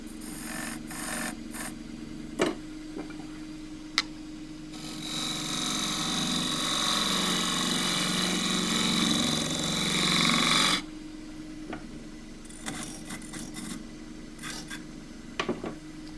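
A gouge shear-cuts elm on a wood lathe, a steady rough rasping hiss lasting about six seconds, framed by quieter scraping and sharp taps before and after, with no talk.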